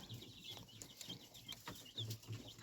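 Soft high peeping and chirping of about 47 quail chicks and 15 chicken chicks in a brooder, a continuous chorus with low clucking underneath, fairly faint and close.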